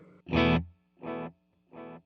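Quarter-note repeats from a Wampler delay pedal with the reverb switched off: a loud guitar note followed by two fading echoes at steady even spacing, each quieter than the last, with no voice.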